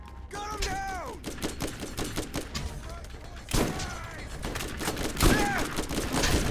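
Rapid bursts of gunfire in the Borderlands video game, continuous crackling shots layered with game music and effects, loud and busy throughout, with a voice talking over parts of it.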